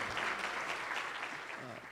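An audience at a TiECon Florida keynote applauds, a dense, steady wash of clapping that carries on throughout and tapers slightly near the end.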